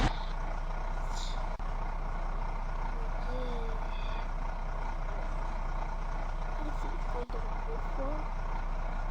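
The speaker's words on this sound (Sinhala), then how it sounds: "ඉතින් මේ තියෙන්නේ මායාකාරී රොයල් එඩිෂන් බස් එක." Engine drone of the Royal Edition bus in a bus simulator game, a constant loud rumble with faint beeps and a couple of brief air-brake hisses, under someone talking throughout.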